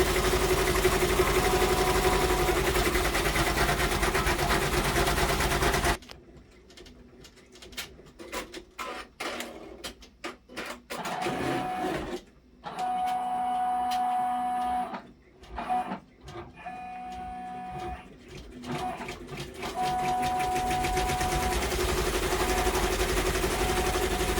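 A Brother embroidery machine stitches a design in light orange thread, whirring and tapping rhythmically in stops and starts after a loud stretch of broadband noise, with no talk.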